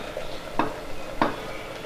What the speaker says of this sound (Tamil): ஸோ இப்போ இதை நல்லா கலந்து விட்டுருங்க